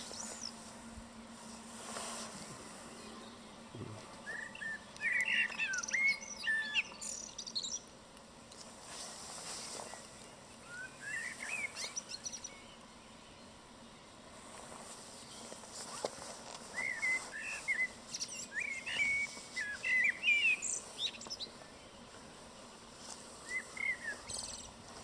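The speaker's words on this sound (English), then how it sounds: "If I keep quiet, we should get some nice recording of birdsong" Wild birds of unknown species sing in short, scattered phrases at moderate distance, recurring every few seconds over a steady outdoor background hiss with faint low rumble.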